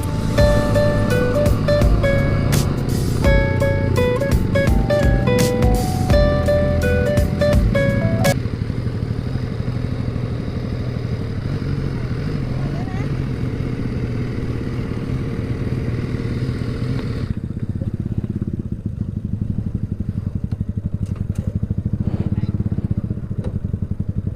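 The vehicle Alfie pulls uphill in first gear toward Sky Hill, a steady loud engine drone with clatter and rattling, and a voice talking early on.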